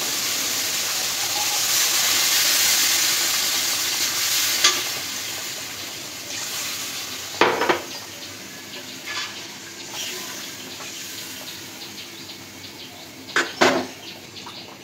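Broth is poured into a pan of rupchanda fish curry as it cooks, producing a steady sizzle and bubbling with occasional clanks and scrapes of a utensil stirring against the pan.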